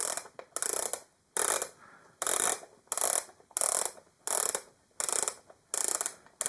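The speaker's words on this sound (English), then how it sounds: "rotating bezel." The rotating bezel on a Seiko clock turned in repeated short bursts, each a rapid run of close, crisp ratcheting clicks separated by brief pauses, about nine bursts in a row.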